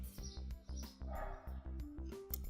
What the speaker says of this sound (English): this dog is so annoying, it just won't stop barking the entire day